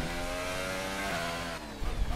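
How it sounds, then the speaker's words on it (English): Race car engine in F1 2018 during the Bahrain Grand Prix, a steady high-pitched whine holding nearly constant, then dipping as the car lifts off, with a brief rougher burst at the end, loud and continuous with no talk. "it's just engine sound"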